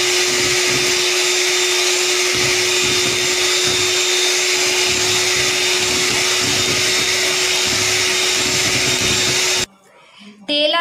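A blender runs steadily and loudly as it whirls milk and oil together for black forest cake batter, a constant high motor whine with no pauses, cutting off abruptly near the end as a voice begins speaking.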